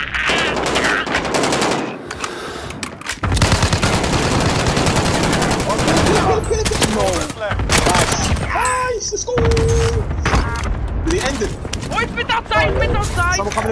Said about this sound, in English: Massive cannon shot